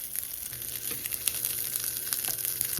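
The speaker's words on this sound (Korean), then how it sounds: "버터 살짝 둘러서 굽고 있어요." Corn on the cob grilling in a pan with a little butter, a continuous close crackling sizzle with scattered pops and a few soft stirring or turning sounds, steady and moderately loud, no voices.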